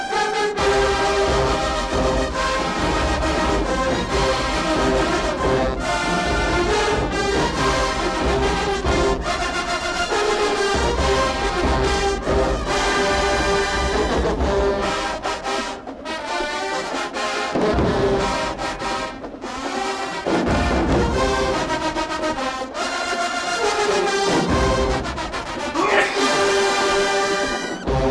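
A recording of a marching band plays a dark, brooding tune, with brass and heavy drums sustained loud and dense throughout, dipping briefly in the middle.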